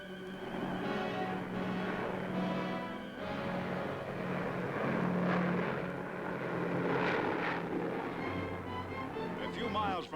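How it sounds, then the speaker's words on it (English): American patrol planes droning overhead, a steady rumbling engine hum that swells and fades slightly, heard under a narrator's voice. "Overhead, American planes patrol."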